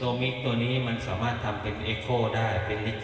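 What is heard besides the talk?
No everyday noises stand out.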